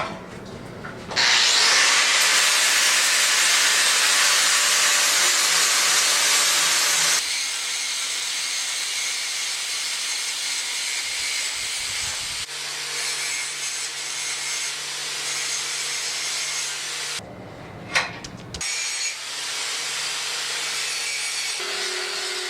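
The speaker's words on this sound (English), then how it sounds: "So I was just taking the furriness off the edge with the big angle grinder" A big angle grinder smooths the rough, furry edge of a sword blade being made in the Egyptian style, with a loud, steady abrasive whine and rasp that shifts in tone between passes and briefly cuts out near the end.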